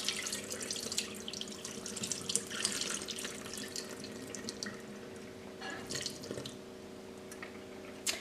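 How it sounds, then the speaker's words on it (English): Soaking water drains from salted pollock fillets into a sink, a continuous trickle and splashing flow with intermittent drips, close and moderately loud. "After soaking the pollock fillets for 1 hour in the refrigerator, let's drain the water."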